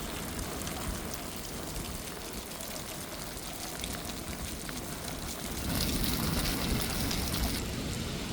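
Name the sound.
heavy rain falling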